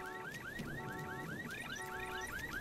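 A car alarm in the video game Halo 3 ODST loops its rising electronic whoop again and again, steady and loud, with a constant background hum underneath and no voices.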